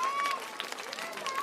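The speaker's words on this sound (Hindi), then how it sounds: "मैं सभी पेरेंट्स और बच्चों से कहता हूं कि जोरदार तालियों में इन बच्चों की हिम्मत अफजाई करें" A school audience at a prize distribution claps for prize-winning children, a steady, moderately loud patter of many hands with brief thin tones over it and no speech.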